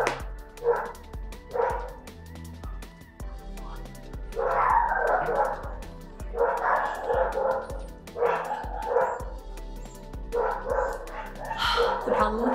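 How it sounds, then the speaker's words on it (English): Several dogs bark repeatedly in uneven bursts, fairly close, with occasional yips and whimpers between the volleys. The barking keeps going with no real pause. "The problem with these dogs is that they start and they literally don't stop."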